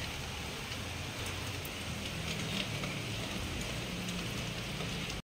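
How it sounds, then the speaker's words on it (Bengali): Steady rain falling and pattering on surfaces during a meal, a continuous even hiss with soft drops throughout and no voices. "বৃষ্টি চলে এসছে দেখো, ঠিক খাবার টাইমে বৃষ্টিটা চলে এসছে"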